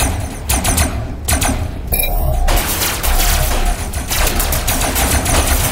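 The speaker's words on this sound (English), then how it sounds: "it's a lot better to kind of burst like this" Short bursts of gunfire from robot-mounted guns in the vehicle-building combat game Robocraft, a few shots at a time over a dense, steady din of mechanical and explosive game noise, loud and close.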